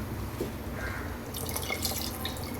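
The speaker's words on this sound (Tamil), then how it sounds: "இப்போ இன்னும் கொஞ்சம் தண்ணி சேர்த்துக்கலாங்க." Water poured into mutton gravy in a cooking pan, a soft splashing trickle and dripping that grows brighter midway, close with a quiet kitchen background and no talk.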